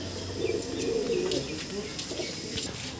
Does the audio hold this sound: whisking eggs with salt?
no